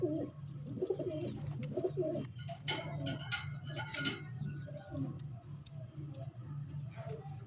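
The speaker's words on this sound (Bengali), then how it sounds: "এগুলো সারের কবুতর নাকি?" Several domestic pigeons coo in soft, low, repeated bursts throughout, with occasional light clicks and ticks and faint background voices.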